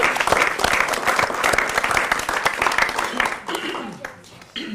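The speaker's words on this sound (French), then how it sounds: "qu'on va applaudir pour qu'elle ose commencer" A crowd applauds warmly and continuously for several seconds, then the clapping fades out near the end.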